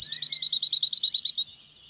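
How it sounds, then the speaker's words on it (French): Cirl bunting song: a rapid, even trill of about a dozen identical dry notes, loud and close, stopping abruptly after one and a half seconds. "Le chant du bruant zizi,"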